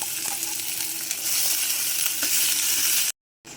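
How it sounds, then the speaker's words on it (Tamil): Chopped onion and ground masala sauté in a hot pan with a steady, close, loud sizzle and hiss, then cut off abruptly just before the end. No voices. "வெங்காயம் வதங்கினோடனே நம்ம அரைச்சி வந்த உதிரியும் இதில் போட்டு வதக்கணும்"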